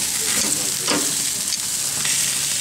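Tri tip steaks sizzle loudly on a grill, a constant crackling fry with brief bursts of hissing as the meat is flipped; no one speaks.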